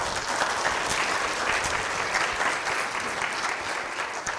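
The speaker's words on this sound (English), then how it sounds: "Please give them a big round of applause." A convocation audience applauds steadily, a dense wash of many hands clapping at close range with no voices breaking through.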